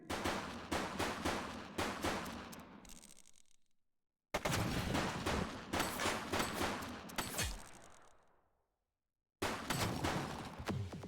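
Rapid bursts of gunfire from the police game The Precinct, loud and close, come in dense volleys separated by brief silences, with echoing tails trailing off after each burst.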